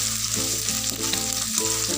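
Garlic and shallots stir-frying in a pan for a spicy-sweet sausage and meatball dish, a steady loud sizzle running throughout with faint stirring scrapes.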